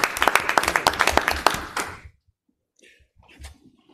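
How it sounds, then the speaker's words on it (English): An audience at a board of education meeting bursts into dense clapping for about two seconds, which stops abruptly and leaves near silence with faint distant voices. "Clap for all of us."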